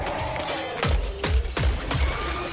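Shotgun gunfire in the video game Killing Floor 3, a flat, identical tuck-like report repeating: four loud, evenly spaced booming blasts with short decays over a steady combat background.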